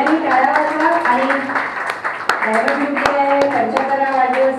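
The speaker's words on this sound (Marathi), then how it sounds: "आता सगळ्यांनी टाळ्या वाजवा" An audience claps sparsely at a 75th birthday celebration, a few sharp separate claps scattered under a continuous speaking voice that dominates.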